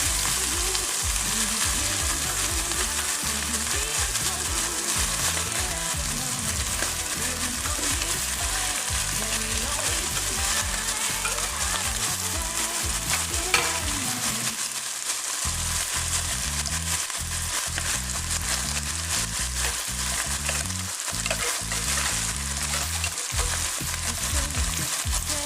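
Canned Melody tuna fries in a pan while being stirred, a loud, constant sizzle with scraping and clattering stirring strokes, briefly dipping around the middle before resuming, with no voices.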